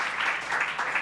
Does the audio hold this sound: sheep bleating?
no